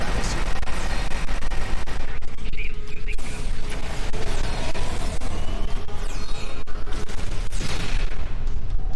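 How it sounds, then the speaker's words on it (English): A loud explosion in the game Star Trek Online blows open a breach, heard as dense continuous rumbling roar with repeated booms and bursts lasting several seconds. "That was an explosion of sufficient magnitude to cause a breach."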